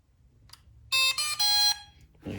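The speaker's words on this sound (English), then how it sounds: "You turn it on, it'll beep at you." A Ruko F11 Pro 2 drone switching on gives a loud, close sequence of three bright electronic beeps in quick succession, followed by a soft thump.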